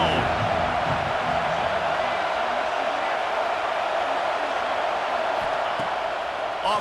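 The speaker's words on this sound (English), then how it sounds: "This crowd ready to make its presence known." A steady, dense roar from a packed football stadium crowd holds constant for several seconds, a continuous wash of massed voices with no clear individual speech.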